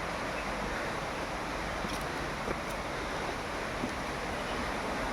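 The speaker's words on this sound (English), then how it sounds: "the sounds of the waters, and the birds chirping." Water rushes at Rani Duduma waterfall in Koraput, Odisha, a dense, continuous roar of falling water that fills the whole scene, with faint brief chirps barely poking through.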